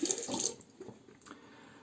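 Running water rinses a Muhle Rocca safety razor, a splashing gush at first that thins into softer trickles and drips, close by with no talking.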